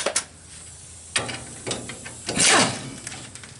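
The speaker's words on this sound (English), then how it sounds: "They're not too tight, especially with an impact gun." Impact gun loosening bolts with a 9/16 socket on a Load Trail trailer brake: a few short, close mechanical bursts, the longest rattling hammer run near the end.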